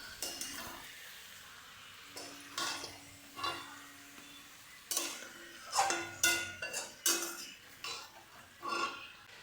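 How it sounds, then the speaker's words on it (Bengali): Chicken being stir-fried with spices in a pan over low heat: a quiet background sizzle broken by repeated spoon scrapes and knocks against the pan in irregular bursts, close by, with no speech. "এবার মশলার সঙ্গে চিকেনটা কষিয়ে নেব"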